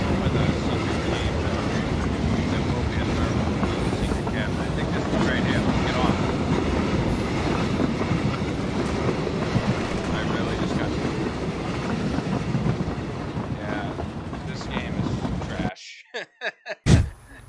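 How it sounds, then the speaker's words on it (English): A moving train in the PUBG video game rumbles loudly and steadily with rhythmic clickety-clack from its wheels, then cuts out abruptly near the end, leaving a few short bursts. "I'm getting on top of choo choo."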